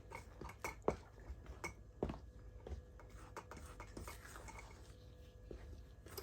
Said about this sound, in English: So mixing it.